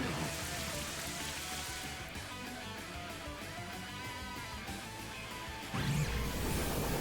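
Rain Dance in Pokémon Scarlet brings a patter of falling rain with splashy impacts, fairly quiet, swelling into a louder burst near the end.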